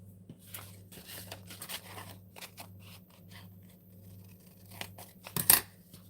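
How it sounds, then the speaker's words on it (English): Scissors snip through thin mulberry or rice paper in a series of light, irregular cuts close by, with a louder rustle near the end and a steady low hum underneath. "Scissors."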